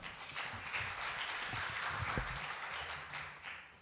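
Audience applause welcoming a speaker at a Korean digital economy forum session, a soft, steady patter of many hands heard from a distance, fairly faint and continuous across the hall.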